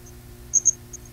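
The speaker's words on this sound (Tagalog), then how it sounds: "Kuliglig." Crickets give a few faint, high chirps, a short pair of pulses with a softer one after, over quiet background hum.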